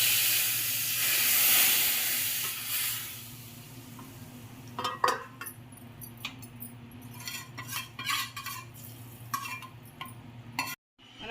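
A hot tempering poured into tomato soup gives a loud hissing sizzle at first that fades, followed by scraping and clinking of a spoon stirring in the pot, with no talking.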